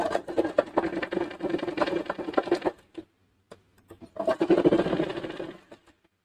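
A sewing machine runs in two bursts of rapid stitching through salwar fabric, sewing at half-inch intervals with a brief pause between runs, close and fairly loud with no talk.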